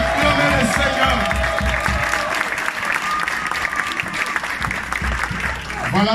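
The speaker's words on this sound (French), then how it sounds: "Tout le monde acclame le Seigneur." A seminar audience claps and cheers continuously, a dense wash of applause with voices rising through it, steady and loud throughout.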